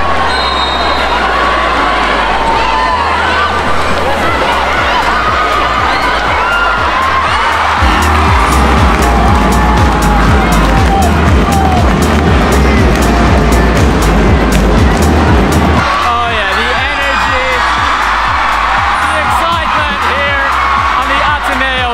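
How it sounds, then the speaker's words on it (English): Crowd yelling and cheering at a UAAP college basketball game, DLSU versus ADMU, a loud dense roar of many voices with drumming and swells of shouting throughout. "Everybody's yelling so loud."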